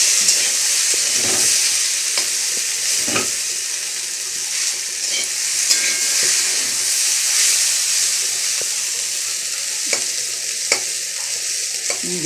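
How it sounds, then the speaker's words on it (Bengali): Cauliflower and potato fry in a pan, giving a steady, close sizzle throughout with repeated scraping stir strokes at irregular intervals and no talking. "কপি আলুটা ভাজা হয়ে এসছে।"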